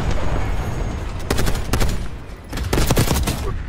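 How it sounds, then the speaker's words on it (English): Sustained machine gun fire in Black Ops 6 crackles in dense, rapid bursts, with a brief lull near the middle before the shooting picks back up, loud and close throughout. "I got a machine gun right here."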